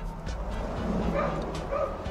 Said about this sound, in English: there's gonna be a puppy